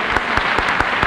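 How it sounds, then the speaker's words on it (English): A studio audience at a 1956 Lawrence Welk television broadcast applauds a Dixieland jazz act, dense rhythmic clapping with regular louder beats, brief and fairly close. "Let's give Red another round of applause."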